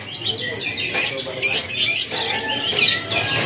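Canaries of the Loper series singing at a bird shop, a rapid run of bright chirps, trills and whistled phrases, lively and fairly close, with faint room noise beneath.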